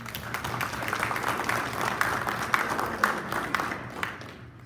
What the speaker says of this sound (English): I'd give them one more round of applause, please